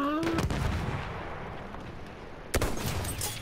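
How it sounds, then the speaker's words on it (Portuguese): Gunfire in the video game Battlefield 1, played as a sniper in the open beta, with a dense bed of distant battle shots and a couple of sharp nearby cracks, under faint voices. "É muito tiro por metro quadrado"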